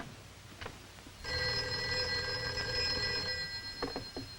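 An old telephone bell rings in a steady continuous burst after a quiet moment, fairly close, with a few small knocks before and after it.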